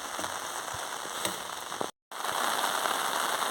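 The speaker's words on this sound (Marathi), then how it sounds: "हे बघा मित्रांनो मुसळधार पाऊस आहे" Dense, steady hiss of heavy monsoon rain pouring down in Konkan, India, with scattered drop taps and a brief cut to silence midway.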